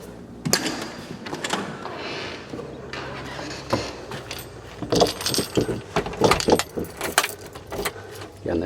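Keys jangle repeatedly at close range in bursts of metallic rattling, mixed with knocks and thuds as the door to a family house is handled and pulled shut, loud and busy throughout.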